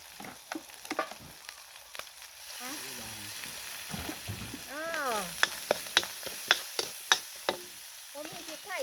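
Food sizzles steadily in a hot wok during a Thai stir-fry with fermented fish sauce, while sharp metallic scrapes and taps of stirring come through, with a voice briefly heard.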